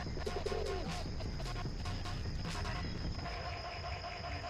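Pigeons of various breeds coo at a pigeon sale, with several soft, throaty coos close by in the first seconds over a steady background hum.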